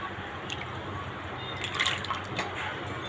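Soaked chana dal rinsed by hand in water in a kitchen makes a continuous soft sloshing and trickling, with a few brighter splashes midway and no talk.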